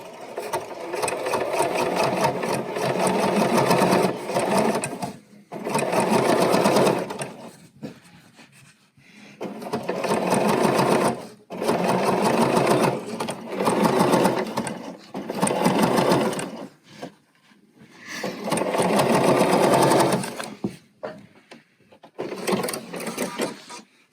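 A Bernina sewing machine stitches and gathers fabric in loud, close bursts of rapid mechanical whirring, several runs a few seconds long separated by short pauses.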